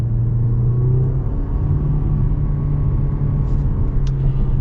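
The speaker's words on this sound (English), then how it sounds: "Let's get our little acceleration here with the CHR." A 2021 Toyota C-HR Limited accelerates, its engine giving a steady, close low rumble and hum that holds evenly throughout with no talking.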